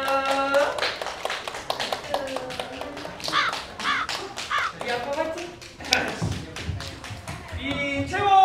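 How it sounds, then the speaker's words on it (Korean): A toddler of about 23 months claps along during a kids' group exercise class, a run of sharp taps and small claps scattered under adults talking and singing nearby. "박수."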